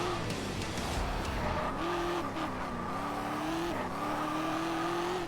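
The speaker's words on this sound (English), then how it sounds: "Trying to take a freaking supercar down this is ridiculous." A supercar in the racing game Test Drive Unlimited bumps along a pothole-filled road, its engine droning loudly and rising and falling with tire noise throughout.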